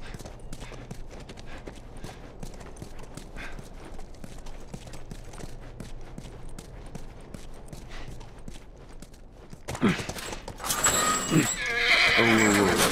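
In the video game The Last of Us Remastered, a horse's hooves clip-clop steadily at a walk, then a loud, close neigh and snorting break out near the end.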